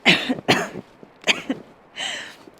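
Three sharp coughs, then a longer throat-clearing rasp, close to the listener, outdoors while backpacking at about 11,200 feet.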